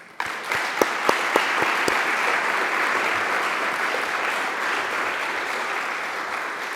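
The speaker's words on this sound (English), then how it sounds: "So let's give a round of applause to SEPAC, please." A room of people at a community inclusion awards ceremony breaks into applause, opening with a few sharp individual claps before a dense, steady wash of clapping that carries on unbroken.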